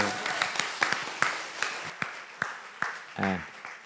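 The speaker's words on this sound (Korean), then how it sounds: "우리 한 박수 할까요?" Applause in a church congregation comes as a run of distinct, evenly spaced claps roughly every half second, moderately close. A voice briefly breaks in near the end.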